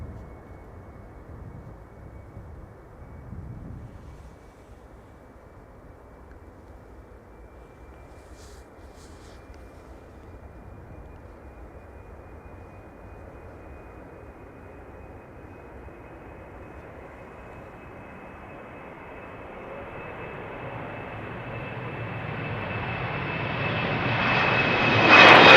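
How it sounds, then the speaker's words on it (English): Eastern Airways Embraer 190 jet departing Schiphol, its engine roar low at first and steadily building to a loud, close climax near the end, with no talk over it. "Does look like the Embraer 190 to Newcastle is going to go first."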